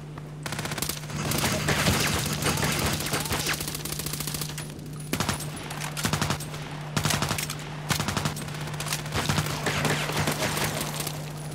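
Gunfire crackles in the online shooter Contract Wars: rapid automatic bursts and single shots repeat in clusters, loud and close over a steady low electronic hum.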